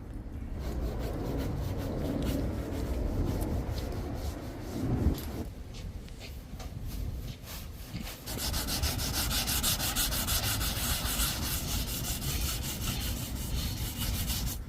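Scale and rust are scrubbed off an old car body with a steady, loud abrasive rubbing that runs almost continuously, easing off briefly midway before resuming.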